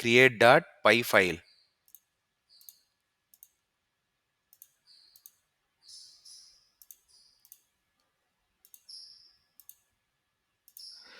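Sharp computer mouse clicks sound at irregular intervals, singly and in quick pairs, close and crisp in a quiet room after a short burst of speech at the start.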